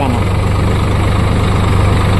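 A tractor engine idles with a loud, close, steady low chugging throb and constant vibration, while a voice talks over it.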